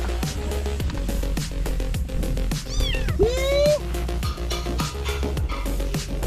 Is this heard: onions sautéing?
no